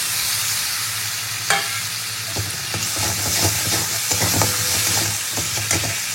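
Garlic and ginger paste frying in hot oil in a pan, a steady, close sizzle with stirring scrapes and small pops throughout, no talking.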